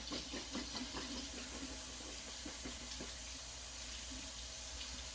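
Raw potatoes are washed under a running tap, the water a steady hiss over a sink with faint splashing and rubbing as the potatoes are handled, quiet and close.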